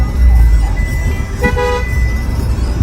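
A Mahindra Thar engine runs with a steady, loud low rumble throughout, and a short car-horn toot sounds about halfway through.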